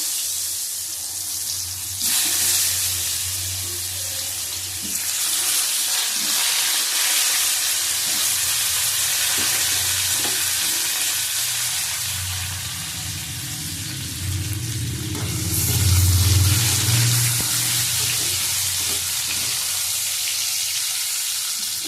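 Potato and taro frying in oil with a bay leaf, a loud continuous sizzle with bursts of hiss that swell and fade, plus low rumbling and a few stirring knocks in the pan, with no voices.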